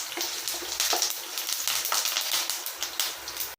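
Urad dal fries in hot oil for a leftover rice dish, a dense, close crackling sizzle with rapid popping that runs steadily throughout without any talk.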